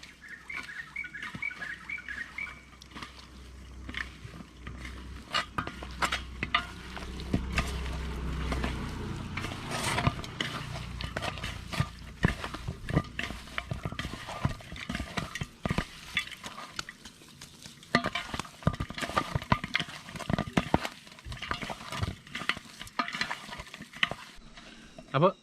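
Chicken pieces worked together with masala by hand make wet, squelching and slapping sounds in an irregular rhythm, close and moderately loud, with faint birdsong in the background; no talking.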